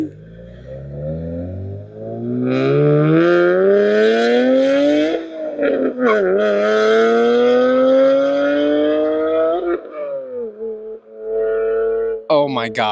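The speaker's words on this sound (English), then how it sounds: "we just installed Z1 equal length headers, Burke resonated test pipes, and an Alibaba exhaust" A Nissan 370Z with a VQ V6, Z1 equal length headers, Burke resonated test pipes and an Alibaba valved exhaust revs loudly and close, climbing in steady pulls, dropping briefly, then rising again before a final burst.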